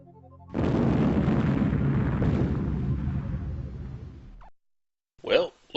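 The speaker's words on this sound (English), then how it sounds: "What'll they do when that explosion reaches them?" A sustained, roaring explosion from the computer game Space Quest V rumbles loudly for about four seconds and then cuts off. After a short silence a voice speaks briefly.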